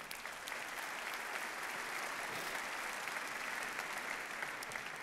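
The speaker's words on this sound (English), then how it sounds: "Je suis sûr aussi qu'ils méritent vos applaudissements aujourd'hui." A conference audience at the opening keynote of AWS Summit Paris 2018 applauds steadily, a dense, even wash of clapping held at moderate distance for several seconds, with no talking over it.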